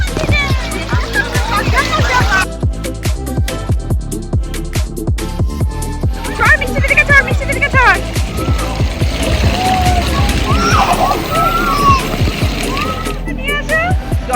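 People wade and splash through water at a water park, a steady stream of sloshing and splashing steps with loud voices talking and calling out over it.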